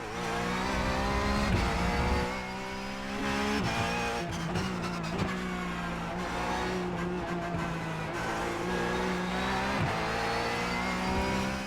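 A race car in the iRacing sim on worn tyres, a loud continuous engine roar rising and falling with gear changes and revs, with brief tyre squeal and no talk.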